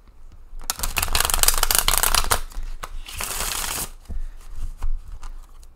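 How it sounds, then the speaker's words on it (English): A deck of tarot cards is riffled and shuffled close up, giving two long crisp bursts of rapid flicking followed by a few softer taps and slides as the cards settle. "So we'll give these a shuffle."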